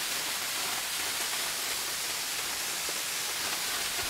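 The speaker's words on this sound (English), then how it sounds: "I can't believe how beautiful this waterfall is." A waterfall roaring as a steady, dense broadband rush of falling water, constant and unbroken throughout with no voices.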